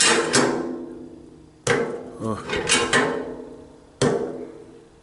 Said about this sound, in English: Now I'm going to hit it down again and just tap on it.